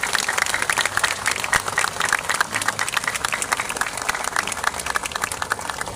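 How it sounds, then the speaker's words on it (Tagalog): Crowd at a public gathering clapping loudly and continuously, a thick, energetic burst of applause with sharp individual claps standing out, steady throughout. "Pwede ba palakpakan natin ng pinakamalakas yung palakpak?"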